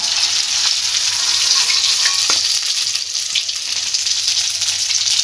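Pea dhoka pieces, a Bengali green-pea cake, frying in oil in a kadai, giving a steady, loud bubbling sizzle throughout with a faint clink near the middle.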